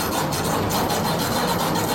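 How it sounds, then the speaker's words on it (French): A hacksaw grinds continuously through metal chain links, a loud, dense rasping that runs without pause and shows a quick stroke rhythm. "Voici ta scie à métaux et je vais te chronométrer pendant 1 minute."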